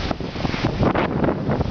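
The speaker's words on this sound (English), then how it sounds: "We have a great big windstorm going on right now." Strong wind gusts batter a Eureka Zeus tent at a campsite, with a continuous loud roar and buffeting close to the microphone and no talk.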